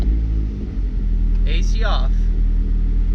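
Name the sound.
Mazdaspeed 3 cabin vibration and rumble, AC off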